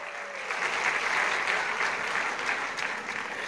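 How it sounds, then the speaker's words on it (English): Audience applause at a preschool's fifth annual function, a dense, steady clapping from a crowd that holds at an even level throughout without any talk over it. "Huge round of applause."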